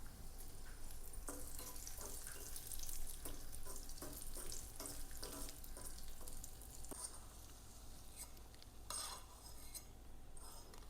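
Raisins fry in hot oil alongside cashews in a pan for white pulav, giving a steady close sizzle broken by light scraping and stirring clinks of a utensil against the pan.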